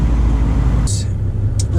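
A 2019 Toyota Camry XSE with a V6 reverses, giving a steady low engine and road rumble that shifts partway through, with a couple of brief hissy bursts near the end.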